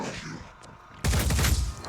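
Gunfire in the tactical game Phoenix Point bursts in loud and dense after a quieter second of faint background, a sustained rattle of shots.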